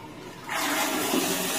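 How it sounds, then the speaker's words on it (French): A heated Japanese toilet in a Chinese apartment is flushed, starting as a sudden rush of water that continues steadily and close by, with no talking. "Par exemple, là, j'ai tiré la chasse."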